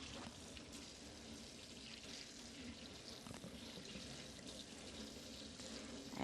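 Tap water runs steadily into a sink while hands are rinsed during cooking of spinach pasta, a soft continuous splashing hiss heard close and quiet throughout, with no talking.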